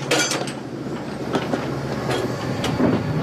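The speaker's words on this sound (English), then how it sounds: "when Thomas chuffs happily across the stone bridge" A steam train rolls across a stone bridge with rhythmic clickety-clack of wheels and repeated chuffing bursts, fairly close and steady, no voices.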